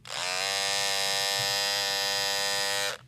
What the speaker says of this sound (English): This is what the old version sounds like.